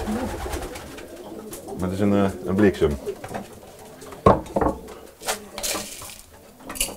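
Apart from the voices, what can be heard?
pigeons cooing in a loft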